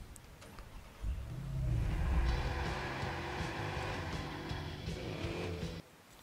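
A car in the video game Watch Dogs starts up and drives, its steady engine drone swelling after a second and holding before cutting out abruptly near the end.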